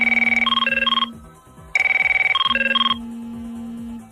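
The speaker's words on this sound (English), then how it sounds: "that's one of the many ringtone settings from an old Merlin telephone system" Ringtone from an old Merlin telephone system, two loud electronic bursts of rapid pulsing warbled chirps separated by a short gap, with a low steady tone continuing underneath.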